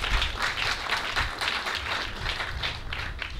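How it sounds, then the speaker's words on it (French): An audience at a political mobilisation rally in Yopougon, Côte d'Ivoire, applauding, a dense patter of many hands clapping together for a few seconds, steady and fairly close. "Je pense que ça s'applaudit."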